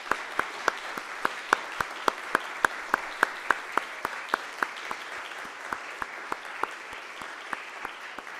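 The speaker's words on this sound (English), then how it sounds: "let's give our new Eagle Scouts one more round of applause" Applause at an Eagle Scout Court of Honor ceremony for newly recognised Eagle Scouts; a steady run of sharp, evenly spaced claps sits over a soft background wash, moderately near, with no talking.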